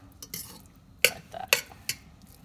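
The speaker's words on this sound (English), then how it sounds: "And now I'm fluffing it." A utensil fluffing freshly cooked Spanish rice in a pot, heard as a handful of close, sharp scraping clinks against the pan at irregular intervals with soft stirring rustles between.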